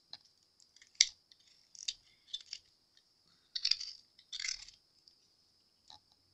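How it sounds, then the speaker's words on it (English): A Dremel rotary tool trims the edge of a resin hair clip: a thin, steady high whine broken by close, scratchy grinding bursts of uneven length. No voices are heard. "Take my Dremel tool and just trim it."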